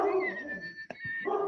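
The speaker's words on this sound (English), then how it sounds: "The dog's not happy with you" A dog barks and howls in the background of a live online discussion, tonal cries rising and falling across the clip, broken by a brief sharp bark near the middle, fairly close and clear with no speech.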